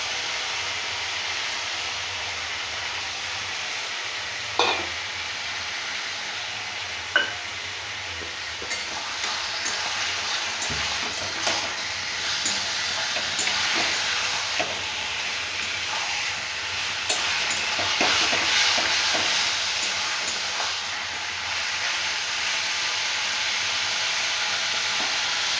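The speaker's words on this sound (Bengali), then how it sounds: "মাংসটা একটু ভেজে নেবো।" Turmeric-coated meat frying in a pan for a papaya meat curry, a constant broad sizzle with occasional clanks of stirring, close and steady throughout with no talk.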